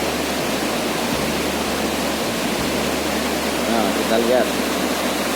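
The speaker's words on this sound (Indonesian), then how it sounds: "Sungai Marmoyo juga berarus deras ini." A swollen Marmoyo river rushes with a strong, steady current after heavy rain upstream, its loud broadband roar continuous and close, with a voice speaking briefly over it.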